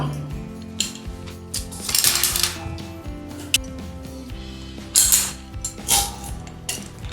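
Metal fall arrester on a safety rope rigged with a figure-eight descender, giving repeated sharp clicks and ratcheting rattles, loud and close, alone with no talk.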